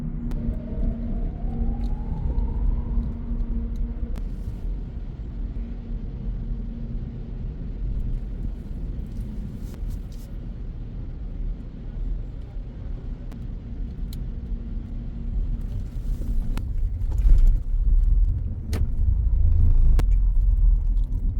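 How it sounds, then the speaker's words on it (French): Trucks rumble off a ferry's hold with a low, echoing engine drone that swells toward the end as a heavy vehicle moves off. Faint clanks sound throughout, and there is no talk. "Il débarque tous les camions d'abord qui étaient au-dessus."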